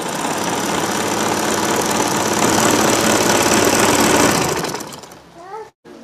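A lightweight Singer Butterfly sewing machine runs a zigzag stitch with a fast, rattling, shaking whir that stops abruptly near the end, followed by a few quiet clicks.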